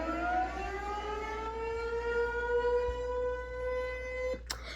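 Indiana civil defense siren used as an emergency alert tone, a single rising wail that holds steady for several seconds before cutting off abruptly.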